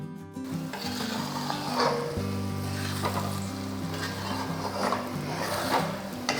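Beaten egg poured into a hot pan for a Tamil masala egg fry, a steady close sizzle and frying hiss lasting throughout, with light stirring and background music.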